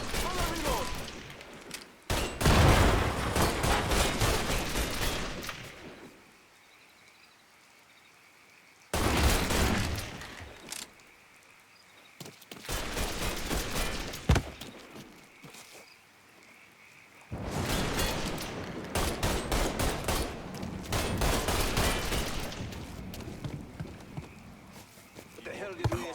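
Bursts of gunfire in the video game Mafia III, loud clustered volleys separated by quieter stretches, with voices and game sound underneath.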